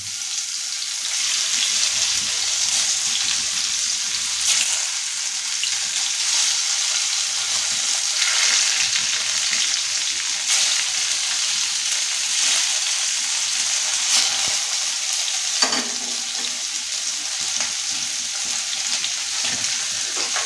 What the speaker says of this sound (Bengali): পনিরগুলো আমি এখন দিয়ে দিচ্ছি। হালকা করে ভাজতে দিচ্ছি।